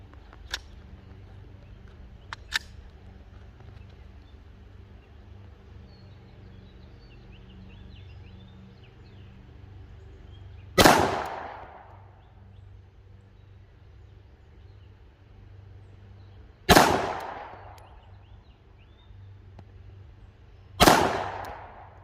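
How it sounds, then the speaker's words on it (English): Glock 17 Gen 5 pistol firing at paper and steel targets at 10 and 15 yards on an outdoor range, three loud sharp shots spaced several seconds apart, each with a ringing decay, after fainter clicks. "5 rounds here at the 10-yard line, 5 rounds at the 15, and then we'll take a look."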